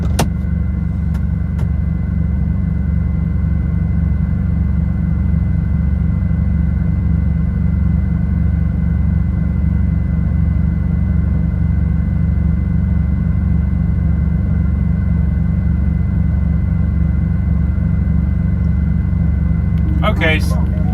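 A truck engine, freshly tuned up, idles in a steady, even low rumble that holds close and loud for the whole stretch, with a brief rattle near the end.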